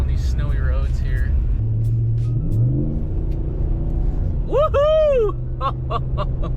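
A RAM Rebel G/T pickup with a 5.7L Hemi V8 and four-wheel drive rumbles deep and steady on a snowy road, rising in pitch as it revs, while someone talks excitedly and whoops over it.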